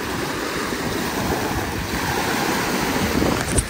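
Strong wind blows across the open water at Mangla Dam, a dense, steady rushing roar with gusty microphone buffeting that stays loud throughout, with no voices.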